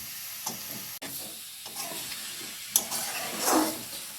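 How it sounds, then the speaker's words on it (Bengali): Boiled potatoes, chickpeas and peas tipped into a hot pan and stirred for ghugni, soft hissing steam and sizzle with scattered scrapes and a sharp knock, fairly quiet and close. "এবারে এই সেদ্ধ করা আলু, ছোলা, মটর এগুলো ঢেলে দিচ্ছি।"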